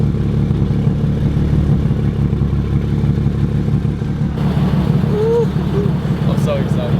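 Nissan 350Z fitted with a Tomei exhaust, idling with a loud, steady low rumble that continues unchanged throughout.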